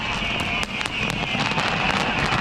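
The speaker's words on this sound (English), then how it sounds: "It's a really long duration for the fireworks show." A New Year's fireworks display in Sydney sends out dense crackling and popping bursts with a steady roar of crowd or ambience beneath. The bursts are loud and continuous throughout, with faint voices mixed in.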